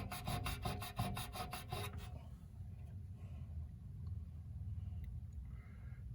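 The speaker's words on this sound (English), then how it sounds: "I'll give that a bit of a rub" A chip on a Commodore PET board is rubbed with a quick run of rhythmic rasping strokes, close and fairly faint, about eight strokes over two seconds, then only a low background hum remains.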